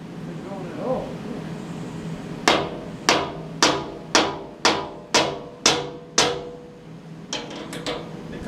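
Steel teeth being hammered into a sawmill blade: nine sharp, evenly spaced metallic blows ring out close by at a steady rhythm, followed by a few lighter taps.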